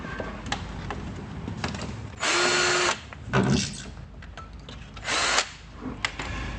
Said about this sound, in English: Drill the other 2 holes.